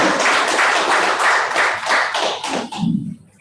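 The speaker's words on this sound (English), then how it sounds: "For that, a round of applause." A small audience at a committee inauguration claps in a short, uneven round of applause that fades out within a few seconds.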